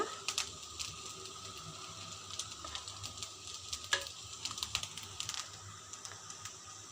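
Prawn fried rice with egg and pepper powder, tossed and stirred in a pan restaurant-style, gives off a soft, steady sizzle with light scraping clicks and no talking.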